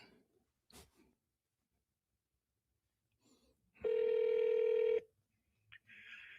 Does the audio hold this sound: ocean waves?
no